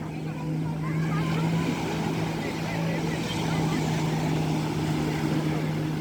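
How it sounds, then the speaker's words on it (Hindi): A water scooter speeding across open water, heard as a steady engine drone with a strong low hum and broad wash of spray noise that holds throughout, fairly near and loud. "ये देखिए वाटर स्कूटर जा रहा है"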